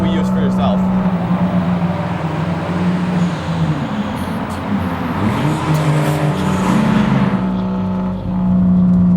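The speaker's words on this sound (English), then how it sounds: "You get some nice exhaust crackles down below occasionally" A Nissan Skyline R34 GT-T sedan rumbles steadily nearby at low revs, a continuous exhaust drone with a few faint crackles, ending with a brief drop in level.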